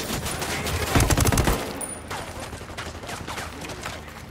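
Heavy gunfire in Ghost Recon Wildlands on Xbox One: a dense, loud volley of rapid shots that peaks in a thick burst, then carries on as scattered, slightly quieter shooting to the end.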